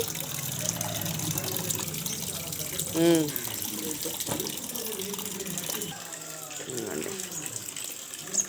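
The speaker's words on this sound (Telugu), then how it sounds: "ఇప్పుడు కూడా మళ్ళీ ఐదు ఆరు సార్లు కడిగేసి వీటిని జల్లి గిన్నెలోకి వడేస్తారు" Water runs steadily from a tap, splashing as something is rinsed several times and drained into a strainer bowl, with a voice speaking briefly over the flow.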